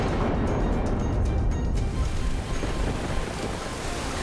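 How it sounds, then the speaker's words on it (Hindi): Turbulent, roaring water surges continuously in a dramatized devotional show scene of catastrophic flood waves around a boat, heavy and wind-like with no clear breaks. "जैसे जैसे नौका आगे बढ़ रही थी, प्रलयकारी लहरें और अधिक भयावह हो रही थी।"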